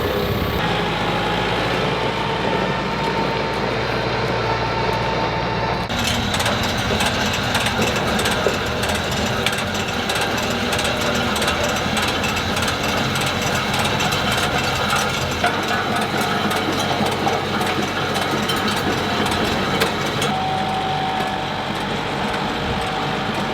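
A tractor engine idles with a steady, knocking mechanical rumble, close and continuous for the whole stretch, with no talk.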